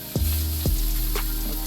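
Salmon searing in a hot pan gives off a steady, loud sizzle, broken by a few quick sliding scrapes and clatters as the fish and pan are moved.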